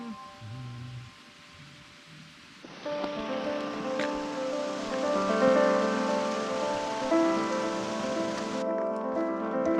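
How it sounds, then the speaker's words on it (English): Heavy rain pours onto a forest trail along a coastal hiking route, a steady dense wash that thickens partway through and stays loud and close to the end, with no talking. "So it started pouring on us."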